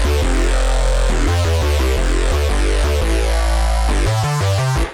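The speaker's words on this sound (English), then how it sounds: "So it's like a very aggressive drum and bass sort of dance floor lead." A heavy drum and bass lead bass synth, aggressive and dance-floor oriented, plays loud, dense, distorted stabs and sustained notes in a driving rhythm, full-band and alone with no talking.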